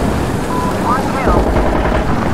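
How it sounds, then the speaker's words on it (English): A gunship helicopter in Insurgency Sandstorm gives off a steady, loud rotor drone with wind-like rumble, and voices speak briefly over it. "Gunship should be showing up anyway"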